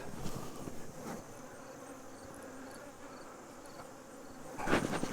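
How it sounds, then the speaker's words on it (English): Honeybees buzzing steadily around an opened beehive during a beekeeping inspection, a continuous close drone with a louder burst of buzzing near the end. "The first two boxes are where the bees live and the queen lays the eggs and they raise their babies"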